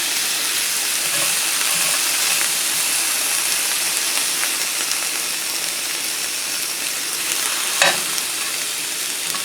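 Peppers and onions fry with garlic in a hot pan, a steady broad sizzle running throughout with light stirring scrapes and one brief louder clatter near the end, no voices.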